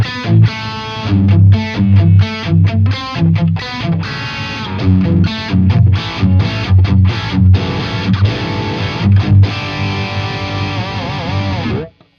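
Distorted electric guitar through a Friedman BE100 Deluxe 100-watt three-channel tube amp head, set with treble and mids pulled back and bass boosted, plays loud, aggressive chugging riffs with rhythmic stops and sustained chords, alone until an abrupt cutoff.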